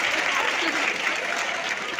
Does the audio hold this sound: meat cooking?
no